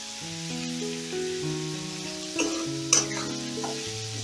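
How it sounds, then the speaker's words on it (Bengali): Onions frying with salt in a pan on a gas stove hiss steadily, with a faint scrape of stirring partway through and a persistent tonal hum underneath. "এটা হালকা গোল্ডেন করে ভেজে দেব"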